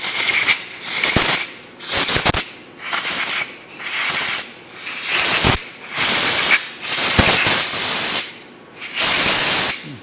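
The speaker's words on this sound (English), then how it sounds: "take a little bit of brake clean, spray it in all the threaded holes" Brake cleaner is sprayed into the threaded holes of a freshly CNC-milled track adapter: about seven loud, close aerosol hiss bursts, each lasting around a second, separated by short pauses, with no talking.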